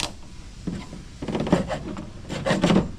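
A handsaw cuts through thin pipe while making tuna tubes, giving rough rasping strokes in two close bursts that grow louder toward the end.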